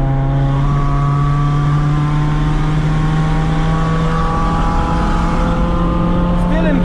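A 2006 Toyota Corolla cruises in third gear, its engine giving a steady drone that slowly rises in pitch as it pulls, with road and wind noise around the cabin and a brief sound near the end.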